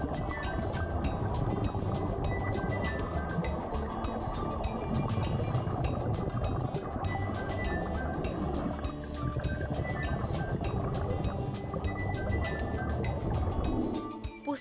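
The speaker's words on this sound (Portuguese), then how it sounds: "Vou até deixar aqui para você um pouco do barulho natural e relaxante das profundezas do mar" Steady underwater ambience of a coral reef in the sea depths: a dense, continuous wash of bubbling and hiss with rapid crackling clicks throughout, loud and unbroken.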